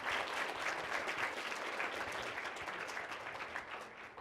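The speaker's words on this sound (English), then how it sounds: "So let's give the family a big round of applause." Steady applause from a gathered crowd honoring a family at a college signing event, a continuous even patter of many hands at moderate distance.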